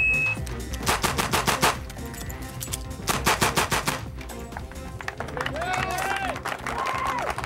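Rapid bursts of sport-shooting gunfire, five shots in about a second, crack out in tight clusters. A crowd and applause sit underneath, and a voice speaks over the latter part.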